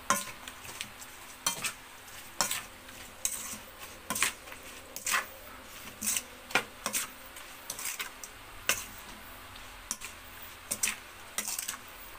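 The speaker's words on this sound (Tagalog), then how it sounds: "Haluin natin mga vlog." A utensil stirs and clinks steadily against a bowl of kinilaw yellowfin tuna with calamansi, vinegar and sugar, giving regular sharp taps about every second over a faint background hiss, with no talking.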